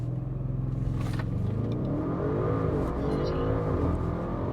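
A car at full throttle on a quarter-mile drag run, engine note loud and close as it pulls steadily through the gears with rising, sustained roar and no talk.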